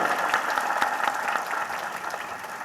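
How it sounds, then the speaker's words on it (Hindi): An audience at an outdoor Catholic pilgrimage feast in Ballia, Varanasi Diocese, claps together in dense, steady applause that holds at an even, fairly loud level throughout. "एक बार ताली बजाना पड़ेगा।"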